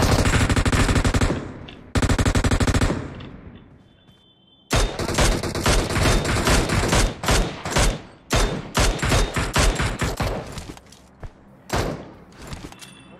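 Loud automatic rifle bursts from a PUBG Mobile team deathmatch, long rapid strings of shots near the listener, a brief pause, then choppy repeated bursts of varying length.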